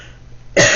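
A woman gives one short, sharp cough up close, abrupt and loud after a quiet moment.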